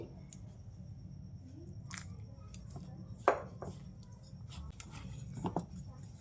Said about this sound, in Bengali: এবার নর্মাল জল দিয়ে মেখে নেব।